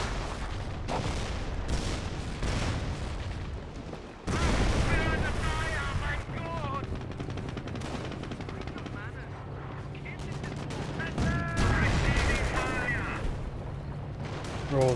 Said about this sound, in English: Got a barrage over here trying to hit this half track.